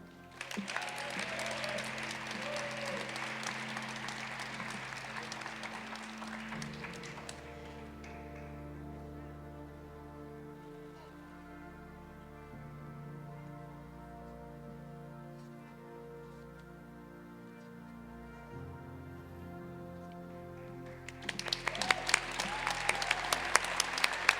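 Applause for graduates at a law school commencement ceremony in Boston: sustained crowd clapping fills the opening seconds, fades under quieter music-like tones, then swells again loudly near the end.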